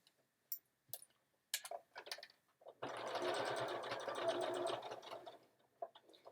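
A domestic sewing machine runs a burst of fast, even stitching on a Sew Together Bag, sewing close along the bottom edge, with short ticks and handling noises before and after the steady run.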